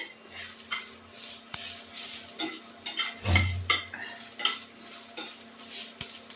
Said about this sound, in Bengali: এই যে খিচুড়িতে মশলাগুলো আমি দিলাম এই যে সব ভেজে দিয়ে দেবো